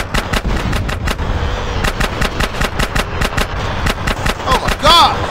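Rapid video-game gunfire from GTA San Andreas: dense bursts of automatic shots in steady rhythm, loud and close, over a rumbling game background, with a brief tonal chime near the end.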